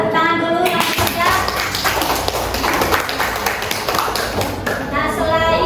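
A class of vocational high school students in a classroom claps together for several seconds, a dense patter of hands, with young voices mixed in before and after.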